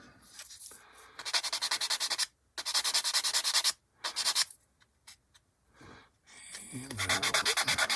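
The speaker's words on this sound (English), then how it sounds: "I'm not putting pressure on the sander, I'm just letting the sander do the work" A power sander works over a 1/48 scale B-25J plastic model kit in loud rasping bursts, starting and stopping several times with short pauses between passes.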